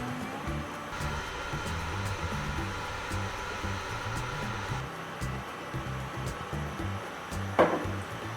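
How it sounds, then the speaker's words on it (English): Mixer grinder running steadily as it grinds four to five green chilies into a fine paste, a continuous close whirring drone with one brief sharp knock near the end. "To the mixer jar, add around 4 to 5 green chilies and grind this into a fine paste."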